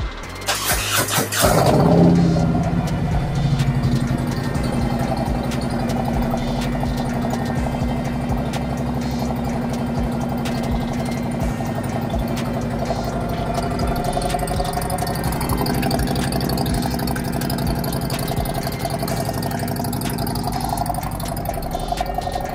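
A Harley-Davidson M8 touring motorcycle engine, just fitted with a new spark plug, starts up and then idles with a steady, loud, deep rumble that continues unbroken to the end.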